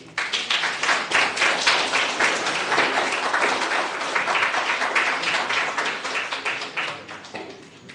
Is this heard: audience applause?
yes